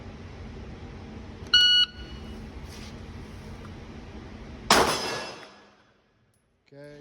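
A shot timer gives a short, sharp electronic beep at a firearms training exercise, followed seconds later by a single loud gunshot that rings out and decays, with quiet surroundings.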